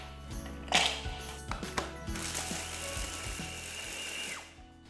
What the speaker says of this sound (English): I'm going to grind this to a finely coarse mix, which we're going to use as the crispy base in our mousse.